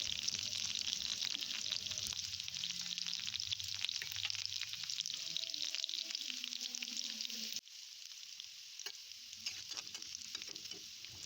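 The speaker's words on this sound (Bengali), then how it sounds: "এই যে পেঁয়াজ কুচি দিয়ে দিলাম, তারপর আমি পেঁয়াজটাকেও হালকা ফ্রাই করে নেব।" Chopped onion fries lightly in oil in a pan, giving a steady close sizzle with stirring scrapes and clatters that drops in level partway through.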